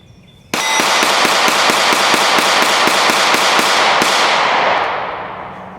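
A CANIK Mete MC9 micro-compact pistol fires a rapid string of about fourteen evenly spaced sharp shots over roughly three and a half seconds, loud and close, with the reverberation tailing off afterwards.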